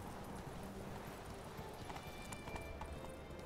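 Roach, the horse in The Witcher 3, running hard, with rapid rhythmic hoofbeats pounding close by, steady and loud throughout, over a low rumble.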